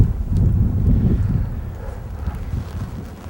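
Wind buffeting a microphone out on Beaver Lake, a loud, rumbling low roar in uneven gusts with no one talking.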